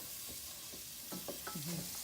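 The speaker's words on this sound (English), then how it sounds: "First, I'm going to put in my onions and get them cooking. Got a nice little sizzle there." Onions sizzle softly in a hot pan for pasta fagioli, a steady low hiss with a few scraping stirs and clinks of a utensil.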